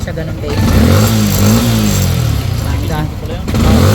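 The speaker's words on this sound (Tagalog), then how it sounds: "Parang 150cc na yung tunog niya." A Suzuki Raider/Sniper 155 motorcycle engine with rebuilt internals and a rocker arm fault revs up toward 7,000 RPM, a loud, steady mid-pitched roar rising and falling, close to the listener, with some talk over it.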